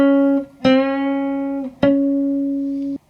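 A single guitar note, C, bent up a half step while playing the pentatonic scale: three plucked attacks, each ringing with a steady sustained tone that glides slightly in pitch, clean and close with no voices.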